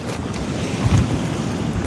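Strong sea breeze gusts across open water around a fishing kayak, a steady roaring wind rumble buffeting the microphone with a low wash of waves beneath, no voices.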